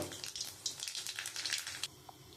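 A bay leaf and black cumin seeds sizzling in hot oil left from frying fish, a bright crackling burst that runs for a couple of seconds and then drops away to quiet.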